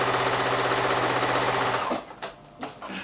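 A sewing machine stitches 5-inch quilt squares for a sailboat block, running as a fast, loud, even whir for about two seconds, then stopping, followed by two short bursts of stitching.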